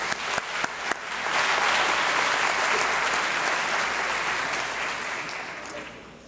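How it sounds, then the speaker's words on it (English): A crowd at a 2019 high school graduation ceremony applauds the honored graduates, with steady, loud clapping that swells after a few scattered claps and slowly fades. "Let's give all of our honored graduates one more round of applause."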